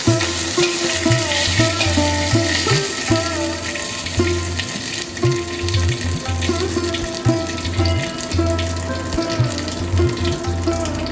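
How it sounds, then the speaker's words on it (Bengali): Whole spices (cinnamon, green cardamom, cloves and bay leaves) fry in hot ghee in a wok with a continuous close sizzle, broken by clinks and stirring scrapes throughout. "ঘিটা গরম হলে তার মধ্যে দিয়ে দেবো গোটা গরম মশলা, যার মধ্যে থাকবে দারচিনি, ছোট এলাচ, লবঙ্গ আর তেজপাতা"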